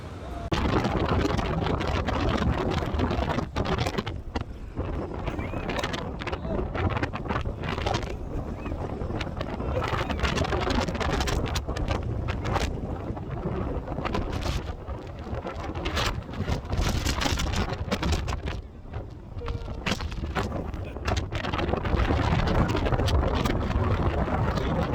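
Strong coastal wind at Ponta da Serreta on Terceira buffets the microphone, a loud, steady broadband roar that rumbles and gusts without a break for the whole stretch.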